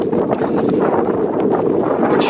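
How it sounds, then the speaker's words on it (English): Strong wind gusts across an open plowed field and buffets the microphone with a loud, continuous roar, rising and falling slightly without a break. "we're trying to block the wind"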